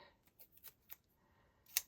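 Small scissors make a few quick, quiet snips while cutting red liner, followed by one sharper, crisper snip near the end, close up in an otherwise silent room.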